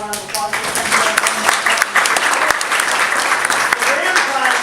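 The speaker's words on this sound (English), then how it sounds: "So we can give them a round of applause." Audience applause at a prize giveaway honoring donors, a steady wash of clapping with some voices mixed in under it.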